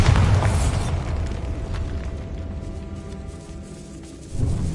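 The Bombarda explosion spell from Hogwarts Legacy strikes as a loud booming blast that rolls into a long, decaying rumble with scattered crackles, followed by a second swell near the end.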